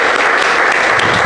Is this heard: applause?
yes